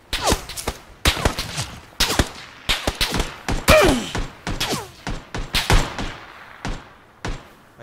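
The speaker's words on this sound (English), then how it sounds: "Oh, I'm getting shot at." Gunfire in Battlegrounds (PUBG): a rapid series of sharp, loud shots in uneven clusters with a brief whizzing sweep in the middle, fairly close, and some faint game noise between the bursts.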